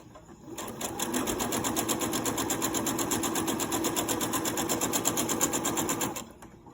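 Electric sewing machine stitching fabric for a chicken-shaped grocery bag holder: a fast, even mechanical whir starts after a brief pause, runs steadily for about five seconds, then stops abruptly.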